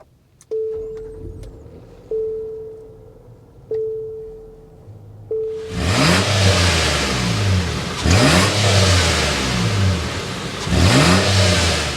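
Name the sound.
2024 Nissan Pathfinder Rock Creek engine starting, exhaust note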